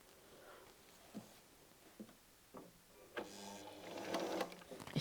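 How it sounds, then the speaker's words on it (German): A sewing machine stitching a curved patchwork seam, with a few soft mechanical knocks and then a rising close whir of rapid stitching near the end. "hier können wir ganz wunderbar entlang nähen, ohne dass wir irgendeine Falte erwischen"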